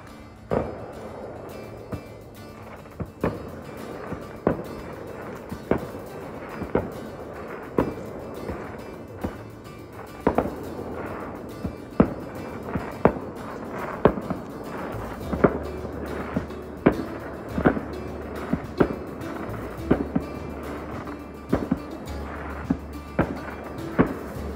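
Fireworks bursting in the distance near Fort McAllister State Park at night, a long series of sharp, fairly faint pops and thuds repeating at uneven intervals over a low steady hum, with no one speaking.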